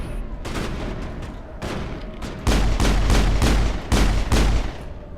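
Pistol gunfire rings out in the video game Mass Effect as a string of loud, punchy shots in bursts of several, with short gaps between volleys and heavier blasts in the second half.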